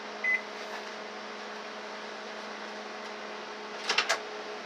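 A steady electrical hum of a microwave oven warming milk in a bowl, with a short beep near the start and a few louder clicks toward the end.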